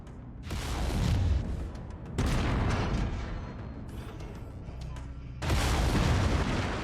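Mech weapons firing in the Mechwarrior 5: Mercenaries battle game, dense sustained blasts and booming bursts in three loud waves with slightly quieter rumbling stretches between them.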